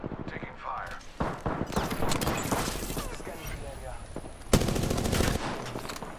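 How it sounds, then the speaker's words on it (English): Rapid automatic gunfire bursts from the Apex Legends battle royale shooter, loud and close with sharp volleys and a heavy blast near the end, under players' voice chat. "Taking fire."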